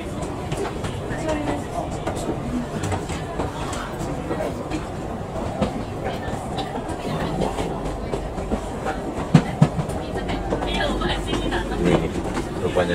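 Inside a moving train from KL Sentral to Taiping, a steady rumble carries faint clickety-clack wheel beats and a couple of sharp knocks, with people talking over it.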